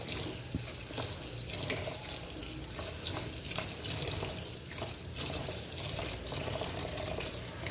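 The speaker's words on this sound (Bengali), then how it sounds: "আমি চাউলটা খুব কষলায় খুব ভালোভাবে ধুয়ে নিচ্ছি, যাতে কোনোভাবে ময়লা টলা না থাকে।" Rice is washed by hand in water, a steady splashing and sloshing with running water throughout, quiet and continuous, with no talking.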